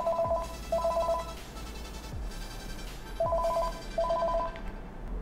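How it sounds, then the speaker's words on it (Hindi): A Panasonic KX-TG3611SX cordless handset rings after the handset-locator button on its base is pressed. Clear, loud electronic ring bursts repeat in pairs, with a few soft clicks between them. "अगर मैं इसको प्रेस करूँगी तो हमारे कॉर्डलेस में बेल बज जाएगी"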